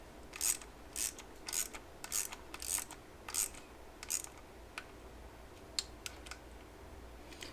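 Engine bolts are started by hand into the timing cover of a CX500 motorcycle engine: a run of short, quiet metallic clicking bursts close by, coming in a quick rhythm and then thinning to a few sparse clicks.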